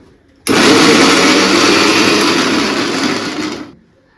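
Onions being ground in an electric mixer grinder with ginger-garlic paste, a loud, close motor whir that switches on abruptly, runs steadily for about three seconds, then winds down and stops.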